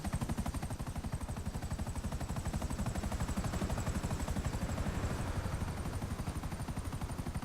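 A helicopter in GTA V Online co-op play gives a steady, rapid rotor chop that pulses evenly throughout, moderately loud and continuous with no talking over it.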